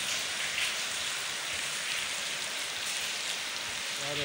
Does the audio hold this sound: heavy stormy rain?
yes